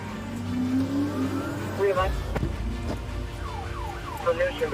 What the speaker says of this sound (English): the driver sped away